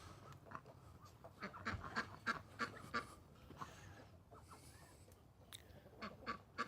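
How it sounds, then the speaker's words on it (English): Ducks quacking in a series of short, faint calls at an animal sanctuary, with turkeys nearby, irregular honks spread across the clip over a quiet outdoor background. "And here comes the ducks to join the turkeys."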